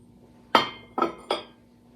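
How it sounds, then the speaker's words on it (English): Wine glasses clink against each other as they are unloaded from a pottery kiln, three sharp glassy chimes in quick succession, the first loudest, close by with no talking. "Actually, there's a bunch of wine glasses in here."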